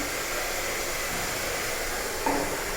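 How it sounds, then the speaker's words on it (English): A handheld blow dryer running while drying hair, giving a steady, close, continuous airy roar that holds even throughout, with no talking. "The more that you can work without putting your blow dryer down and or turning it off, the better."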